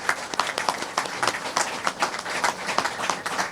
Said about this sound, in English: Let's give a round of applause to all of our staff.